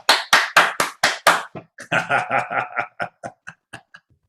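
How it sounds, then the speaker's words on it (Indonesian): A gathering's audience claps in a quick, even burst of about half a dozen sharp hand claps, followed by lighter scattered claps mixed with voices and laughter. "Tepuk tangan dulu lain ya."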